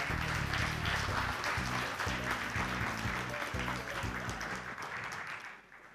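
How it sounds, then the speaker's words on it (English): A conference audience gives sustained applause as a speaker is welcomed to the stage, a dense, steady roar of many hands that stays loud before fading out near the end, with faint voices underneath. "So give a big round of applause for Jordan."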